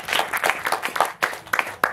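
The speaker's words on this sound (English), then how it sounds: "Give yourself a round of applause." A small festival audience at a common-law talk at Green Gathering 2011 gives a short, uneven round of applause. It comes as scattered, separate claps in irregular bursts rather than a full ovation.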